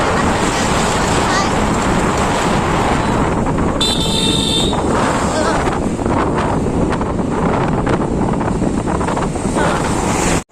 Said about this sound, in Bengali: আমি বাইকে উঠে গেছি